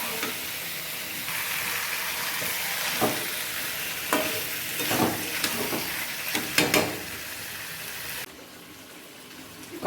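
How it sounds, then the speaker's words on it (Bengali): Chicken pieces sizzle in hot oil and spice masala in a pan, a steady frying hiss broken by several sharp scraping stirs, fairly close, with no talking. "মশলাটার মধ্যে এখন চিকেনটা দিয়ে দিচ্ছি।"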